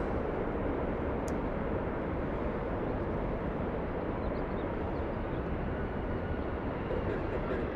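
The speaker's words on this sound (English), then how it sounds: "I think we're going to get another Dreamliner depart here in the north." A United Boeing 787-10 Dreamliner departs from LAX, its engines a steady, loud broadband roar that holds evenly throughout with no talk over it.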